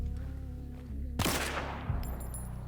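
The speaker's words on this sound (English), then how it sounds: "the CYCLONE allows you to like ego peek and basically just outgun other weapons with 2 taps and high fire rate" Cyclone rifle fire in Hunt: Showdown, a medium-ammo weapon in a Patch 1.14 match, cracking out as one sharp loud shot and then a second burst over steady background game ambience.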